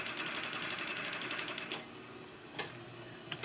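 An industrial sewing machine stitching, a fast steady mechanical rattle that runs continuously for almost two seconds before easing into a quieter hum with a couple of faint ticks, heard close and alone.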